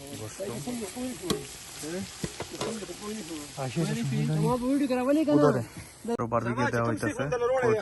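Barbecue skewers and biryani cook outdoors on a mountain campsite in Kyrgyzstan, giving a hissing sizzle beneath almost continuous nearby talking.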